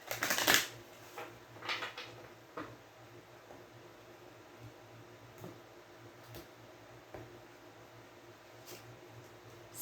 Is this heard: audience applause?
no